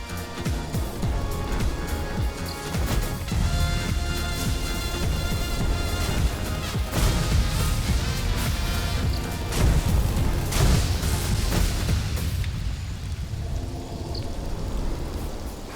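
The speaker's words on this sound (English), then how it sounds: "I'm gonna start railing the front door with lightning." Lightning spells striking a front door in the game Elementalism, a continuous loud crackling, sizzling roar with rumbling booms, sustained for several seconds before thinning out near the end.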